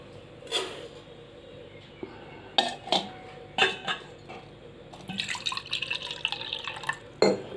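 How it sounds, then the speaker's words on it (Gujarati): Water is poured from a measuring bowl into a steel cooking pot in a home kitchen, heard as several short splashing pours and clinks of metal, with a longer trickling pour near the end. "તો તપેલીમાં આપણે પાણી નાખીશું માપ સાથે।"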